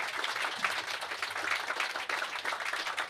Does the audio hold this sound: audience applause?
yes